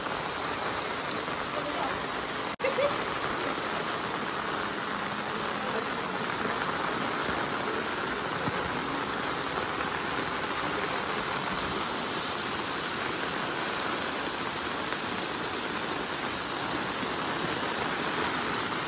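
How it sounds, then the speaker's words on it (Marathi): Continuous rain pours down in Konkan, Maharashtra, a broad, steady wash of water noise that fills the whole stretch, with one brief sharp knock early on and faint talk buried underneath. "सकाळी ऊन पडले ना, आता पाऊस आला."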